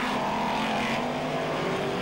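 BriSCA F1 stock cars race on a slippery shale track at Belle Vue, Kirkmanshulme Lane, giving a constant loud, distant engine roar with droning tones that shift in pitch as the cars run the back straight.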